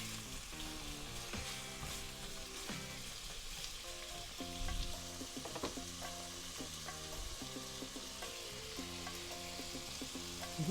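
Chicken and sausage pieces frying in a pot for gumbo make a steady, soft sizzle, with occasional light clicks as the pieces are moved around.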